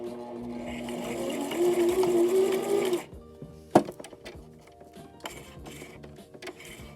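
A sewing machine stitches folded fabric with a steady mechanical whir for about three seconds, then stops, leaving scattered faint clicks and handling noises.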